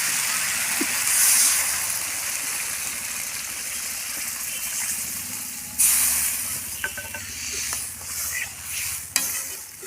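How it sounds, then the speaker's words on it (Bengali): Water poured into a pot of well-sautéed spiced data stem and potato curry, a steady loud sizzle and rushing hiss throughout, with a sharper surge near the middle and a brief splash near the end. "এবার আমি জল দিয়ে দেবো।"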